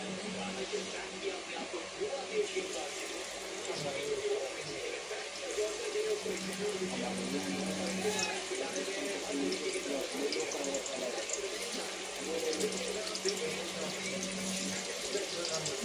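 Stuffed bitter gourds (karela) go into hot oil in a pan and fry with a continuous, moderately close sizzling hiss, while a voice murmurs faintly underneath.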